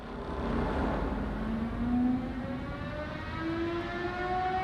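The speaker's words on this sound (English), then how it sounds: "It's a bomb raid siren." A wailing air raid siren in the video game Frostpunk 2, rising and falling over a steady low rumble, moderately loud and continuous.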